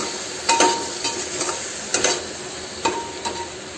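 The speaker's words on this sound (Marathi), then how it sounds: "आणखी याला एकदा बघून घ्यायचं, खालवरचं करून घ्यायचं" Pulao rice being stirred in a pan over low heat, a few scraping strokes of the spoon against the metal at an uneven rhythm, close and clear, with a soft sizzle underneath and no talking.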